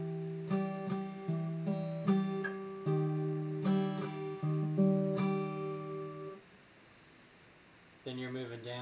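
Acoustic guitar plays the fingerpicked pattern from a song, with a steady rhythm of plucked notes that ring out close and clear. The guitar stops, a short silence follows, and then a note rings out again.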